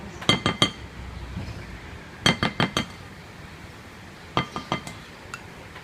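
Red velvet cake batter being mixed in a bowl, heard as three separate bursts of quick, sharp clinks against the bowl with quiet pauses between them, close by and with no voices.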